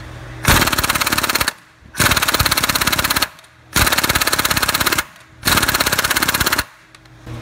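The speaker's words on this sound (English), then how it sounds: "take a look at how this 1200 breakaway torque foot-pound impact struggles with this bolt." A 1200 ft-lb air impact wrench with a 19mm socket hammers at a Honda crankshaft pulley bolt in four long, loud rattling bursts separated by short pauses, close up and with no talking.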